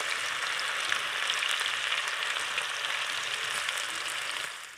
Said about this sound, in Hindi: दूसरी भिंडियाँ भी डालें और उनको भी फ्राई करें